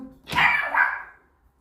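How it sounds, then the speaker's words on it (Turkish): A dog gives a single sharp bark from inside a house, fairly close and clear, trailing off into quiet. "Dikkat köpek var."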